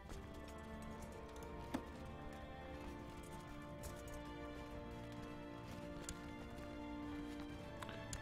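Horse hooves clip-clop in the strategy game Crusader Kings 2, a steady, fairly faint patter running under a dense bed of game music and ambience, with one sharp click partway through.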